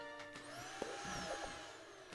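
A vacuum cleaner in the Kill It With Fire video game gives a short, faint whining motor drone with a rising pitch and a small click partway through.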